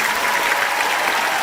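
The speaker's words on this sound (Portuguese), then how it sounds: "eu quero palmas para as pessoas que gravam o BTcast" Sustained applause for the hosts of a Brazilian podcast episode, steady and dense clapping from a group, alone without talk.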